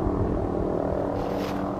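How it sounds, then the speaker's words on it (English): A helicopter hovers some distance away over Shenandoah National Park, a steady drone with a continuous low throbbing rotor hum. "there's a helicopter hovering in this area."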